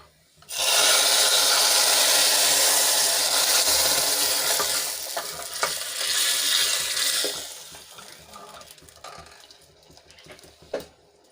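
Hot Gujarati tempering of dried red chillies, star anise, a cinnamon piece and curry leaves hits a pot of dal with a sudden loud sizzling hiss. The hiss lasts several seconds, then fades into softer stirring and a few clinks.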